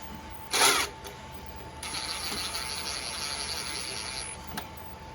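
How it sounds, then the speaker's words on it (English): A 10mm socket ratchet tightens a bolt while fitting a diesel heater: one sharp knock, then a steady run of fine clicking pawl ratcheting for a few seconds, close and fairly quiet. "So I'm going to grab a 10mm socket and just secure this down gently."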